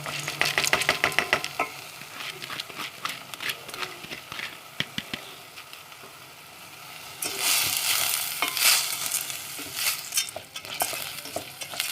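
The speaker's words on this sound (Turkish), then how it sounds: "Şimdi yıkadığım mercimekleri de koyalım." Washed red lentils dropped into a hot pan for a lentil soup and sautéed, with rattling pours and scrapes early on, then a fuller sizzling hiss with spoon stirring, close by and without speech.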